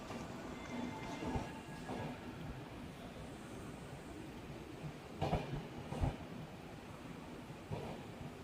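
A train rolls through the night toward Mysore Junction, heard as a steady, fairly quiet rumble from on board with a few sharper clanks and knocks.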